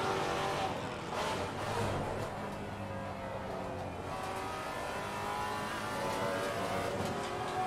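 A Maserati MC GT4 race car's engine roars on track in Assetto Corsa Competizione, a loud continuous drone that rises and falls as the revs change, with faint tire noise underneath.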